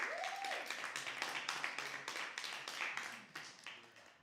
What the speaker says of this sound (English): Another round of applause for Anne-Marie.